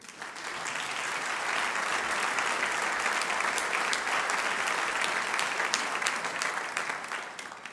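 An audience applauds guests welcomed onto the stage at a Made in France Expo evening in Paris, steady, full clapping that swells and holds for several seconds with no talking.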